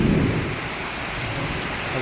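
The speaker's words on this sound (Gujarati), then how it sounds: "ગાજણ ને વીજળી ને બધું થઈ રહ્યું છે." Heavy downpour over farm fields during a storm, with a loud, dense roar of rain and a low thunder rumble at the start, close and continuous with no voices.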